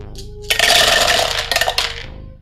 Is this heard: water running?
no